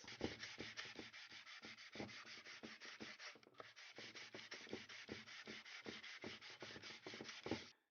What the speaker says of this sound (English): That way it's easier to sand and I can get a nice even finish on the whole surface.